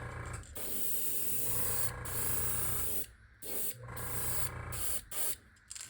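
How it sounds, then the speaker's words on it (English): Several bursts of spray paint hiss from an aerosol can, each lasting about a second and separated by brief pauses, close and fairly loud. "Spray a little on the back end of it."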